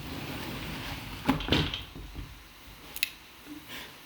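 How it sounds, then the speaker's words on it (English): A door being closed indoors, a few close clicks and knocks clustered together, then a sharper latch-like snap, over quiet room tone. "I'm just going to close the door"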